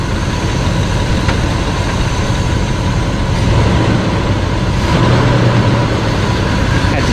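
A 1973 GMC 454 V8 idles steadily close by, a loud continuous low rumble that swells slightly around the middle of the clip and holds to the end.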